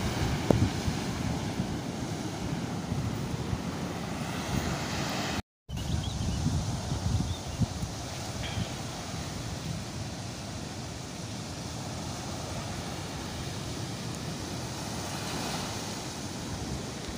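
Surf washes onto the sandy shore of Solokan beach near Pasiripis village in Surade, a steady broadband roar with wind buffeting the microphone, broken by one brief dropout; no voices.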